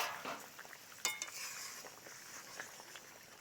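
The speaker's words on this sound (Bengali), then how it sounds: "একটু নেড়ে চেড়ে নিচ্ছি।" Fish head curry is stirred in a pan, with soft scraping and clinks of a spoon against metal over a low simmering hiss, and a sharper knock near the middle.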